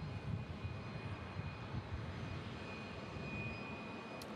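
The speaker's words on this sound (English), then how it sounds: "This is Southwest Airlines in from Nashville." A Southwest Airlines Boeing 737-800 jet arriving from Nashville at Omaha Eppley Field gives a steady, broad engine roar that holds at an even level throughout, with no talk over it.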